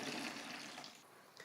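Water pours steadily into a commercial cold brew mixing bucket, a continuous splashing rush that eases slightly toward the end, close and moderately quiet with no talking.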